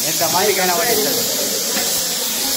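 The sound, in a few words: chicken frying in a large catering pot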